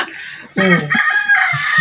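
A rooster crows once at close range, a short, strained call standing out clearly over faint background noise.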